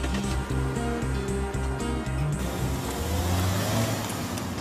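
A Lexus F-Sport car engine revs steadily at close range, a continuous loud drone that rises in pitch partway through as it accelerates.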